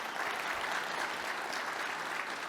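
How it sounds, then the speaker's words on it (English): Audience applause at a corporate broker-partner event honoring an operations team, a steady, dense wash of many hands clapping throughout without any speech. "So round of applause to our ops team for committing to this and delivering to our broker partners."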